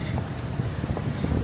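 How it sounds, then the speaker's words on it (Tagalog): Strong wind buffets an outdoor microphone on a street in Taipei, a steady low rumbling roar that fills the whole clip with no clear voices. "ang hangin-hangin"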